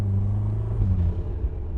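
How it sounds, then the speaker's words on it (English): A BMW-powered 2025 Morgan Plus Four downshifts, its engine giving a loud, close, low rumble that shifts in pitch as the revs change. "Watch as I downshift."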